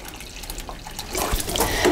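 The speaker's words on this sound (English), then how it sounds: "I'll just pour some water into this grow pot, fill it up" Water pours into a tomato grow pot in a home garden, a continuous splashing trickle that grows louder and fuller partway through, close and with no talking.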